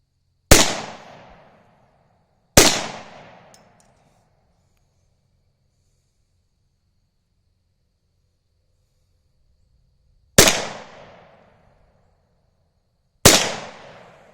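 Four sharp .22LR rifle shots from a Remington Nylon 66, fired outdoors at a distant silhouette target, in two pairs separated by a long quiet gap, each a loud crack with a short decaying tail.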